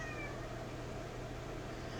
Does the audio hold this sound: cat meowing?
yes